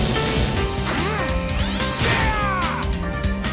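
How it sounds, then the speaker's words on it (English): A pillar being smashed in Ys: Memories of Celceta, with crashing, whacking impacts and swooshing effects over continuous game music. "smashing this pillar creates a shortcut back to the main room of the dungeon"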